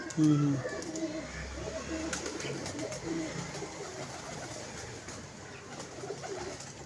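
Pigeons coo in a pigeon club loft: one loud, near coo at the start, then softer repeated coos over a faint background of voices and bird sounds.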